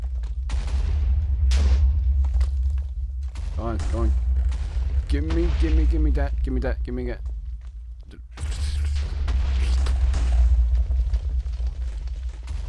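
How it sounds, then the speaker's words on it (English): Cannons on a pirate ship fire in Minecraft, heavy booms and rumbling blasts repeating through the clip under excited players talking over one another. "We were being attacked by a pirate ship."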